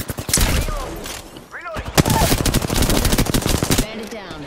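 Rapid automatic gunfire and bursts from a sci-fi video game firefight, loud and near, with brief pauses between volleys, mixed with in-game voice callouts and effects.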